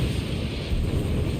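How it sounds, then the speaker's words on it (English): In Crisis Core Final Fantasy VII Reunion, an explosion gives a dense, low, rumbling roar that fills the whole short moment at a steady, heavy level, with no speech. "That seems like an explosion"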